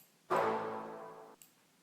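One synthesized hit from an LMMS beat comes in sharply and rings as a sustained, buzzy tonal note for about a second before cutting off, with only a faint click afterward.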